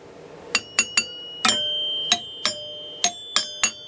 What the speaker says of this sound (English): That's what's making that noise, these little old chimes